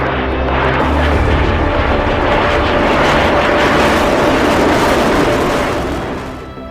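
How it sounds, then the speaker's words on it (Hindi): Fighter jets roar overhead during a bombing strike, a loud, continuous engine rumble that holds steady for several seconds before easing slightly at the end, with no voices. "50 से ज्यादा जंगी जेट जब बम बरसाएंगे"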